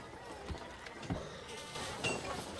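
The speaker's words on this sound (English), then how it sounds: "Hear the goats." Goats bleating as a tabletop game sound effect, several short wavering calls scattered over a quiet background, moderately faint.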